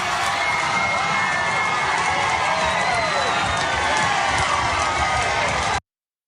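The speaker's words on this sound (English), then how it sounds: "And the crowd goes wild." A large crowd cheers and shouts wildly, a loud and dense roar with a few whistles and high voices cutting through, and it carries on without a break until it stops suddenly.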